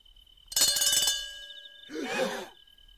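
A call bell rings from an upstairs floor of an inn with one bright, brief ringing burst, then a breathy, sigh-like sound in the quiet afterward.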